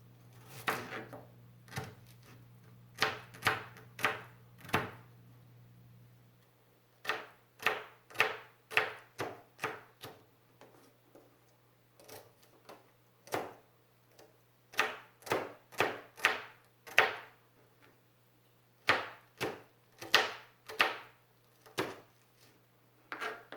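A fresh onion is chopped on a board: crisp knife strikes land in quick, steady bursts with brief pauses, close and fairly quiet over a low electrical hum.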